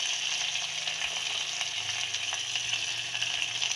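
Carrot and other vegetables fry in oil for vegetable pulao, giving a loud, even sizzle with a faint low hum beneath, throughout.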